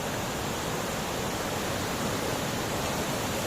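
Strong river current swollen after rain, a steady, dense broadband rush of fast-flowing water that stays loud and constant throughout with no voices.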